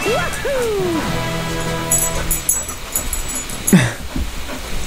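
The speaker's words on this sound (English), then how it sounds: "pup, you coming up finally?" A pet dog whimpers with rising, whining cries near the start, then gives soft panting and snuffling over low background game music.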